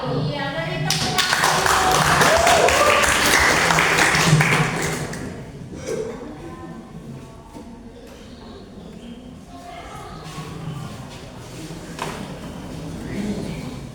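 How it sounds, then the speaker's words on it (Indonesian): A seventh-grade class bursts into applause after a student group finishes its presentation: loud, dense clapping for a few seconds that fades to scattered claps, with voices talking afterward. "beri tepuk tangan."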